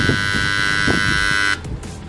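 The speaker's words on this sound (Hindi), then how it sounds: "तो यहाँ पे एक बजर साउंड आएगा।" A Videocon washing machine sounds its completion buzzer at the end of a cycle, one loud, steady electronic tone held for about a second and a half before stopping.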